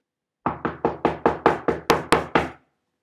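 Nine sharp knocks on a door in an even, steady rhythm, close and loud, with nothing else heard.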